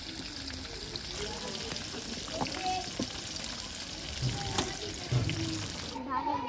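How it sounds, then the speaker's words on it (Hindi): Fish fries in a pan in a village kitchen with a steady close sizzle and crackle throughout, while voices talk faintly under it. "उधर माशाल्लाह वो मच्छी फ्राई हो रही है"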